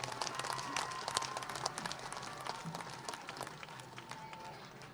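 A crowd claps to welcome guests at a public event for Chief Minister Bhajanlal Sharma's visit to Shahpura. The applause is a fairly faint, dense patter of many hands that slowly fades.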